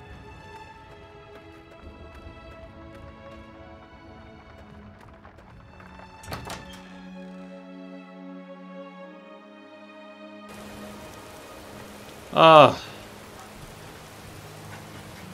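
Rainstorm in the video game Morrowind, a steady wash of rain under sustained musical tones, with a brief thud near the middle and a short loud voice exclamation near the end.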